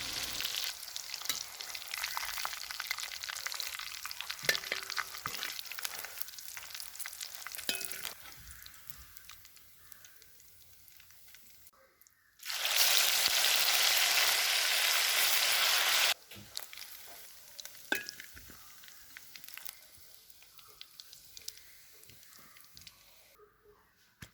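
Chicken pieces frying in hot oil for a Kerala-style chicken curry, a steady close sizzle with stirring scrapes throughout, swelling into a loud, dense crackling burst midway before settling back to a lighter hiss.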